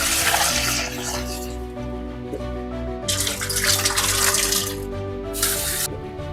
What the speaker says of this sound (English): Wash potatoes.